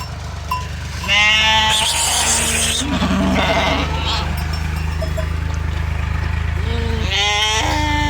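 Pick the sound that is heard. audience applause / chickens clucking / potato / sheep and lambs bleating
sheep and lambs bleating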